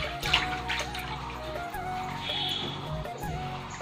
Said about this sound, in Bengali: এখন ওকে স্নান করাচ্ছে